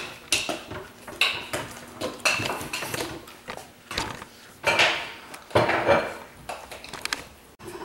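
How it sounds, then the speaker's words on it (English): Soap mixture being stirred during a soap-making class at a market, heard as repeated scraping and clinking of a utensil against a pot or container in irregular bursts, fairly close and moderately loud. "they're giving their soap a stir"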